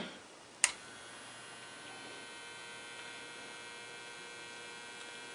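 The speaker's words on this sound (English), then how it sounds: "Now if you hear that little hum in the background, that's the actual vibrator." A steady low electrical hum from the vibrator power supply of a 1947 Chevrolet car radio drones in the background after a brief click, faint and constant throughout.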